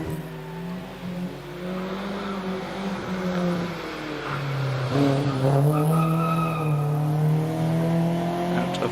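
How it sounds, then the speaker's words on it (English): A BMW climbs the Prescott hillclimb course out of the S bends toward the semicircle, its engine note rising steadily and holding loud and close throughout, with tyres squealing and a commentary voice faintly underneath. "Out of the S's on up to semicircle goes the BMW."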